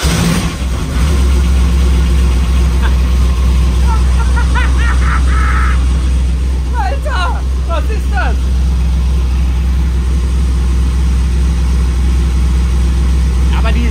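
The engines of an Outerlimits SL-44 speedboat run with a loud, steady, deep rumble that fills the whole stretch, with some faint voices underneath.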